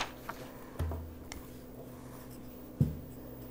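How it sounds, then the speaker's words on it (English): A pen or pencil writes a math problem on a sheet of paper: faint, quiet scratching with a couple of soft taps, alone in a still room. "Write down a math problem on this piece of paper."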